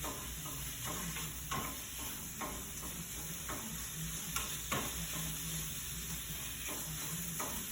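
Ground meat sizzling steadily in a pan for shepherd's pie while a utensil scrapes and breaks it up, with irregular soft clicks and scrapes over a continuous hiss.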